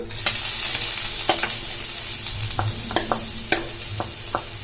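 Ground coconut frying in ghee in a kadai, giving a steady close sizzle broken by sharp spatula scrapes and clicks against the pan, with no voices.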